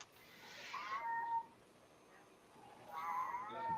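A cat meows twice, two drawn-out calls about a second and a half apart, fairly close and clear against a quiet background.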